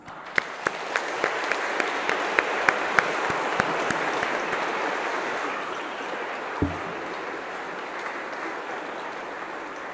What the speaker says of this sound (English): let's give them our applause